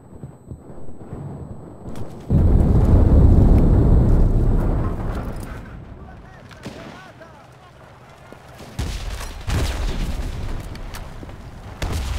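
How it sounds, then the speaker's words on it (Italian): Artillery shells slam down in the WWII shooter Enlisted during the Battle of Tunisia, a heavy rumbling blast swelling and rolling for several seconds, then fading, before more booms and scattered gunfire break in near the end. "chiamando l'artiglieria!"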